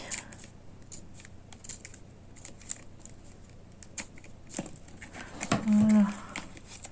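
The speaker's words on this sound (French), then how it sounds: "Je vais découper ici." Scissors snipping open the packaging of a doll's mini handbag, a few faint quick cuts and crinkles against a quiet room, ending in a louder rustle.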